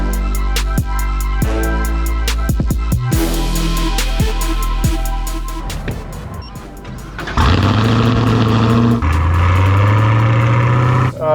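A 2016 Cadillac CTS-V with its stock supercharger starts up and idles with sharp ticking pulses, then revs hard into a loud, rising engine roar, close by.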